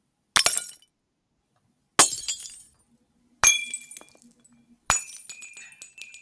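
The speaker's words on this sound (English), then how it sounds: "So I might want something like breaking glass." Four separate breaking-glass sound effects from a Canva library, each a sharp shatter followed by tinkling shards, spaced about a second and a half apart with silence between.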